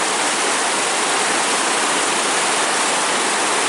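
Steady, loud rush of water pouring continuously over a lake spillway, a dense roaring wash with no voices.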